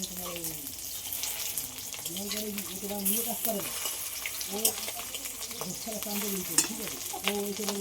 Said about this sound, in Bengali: এইভাবে সব বড়াগুলো ভেজে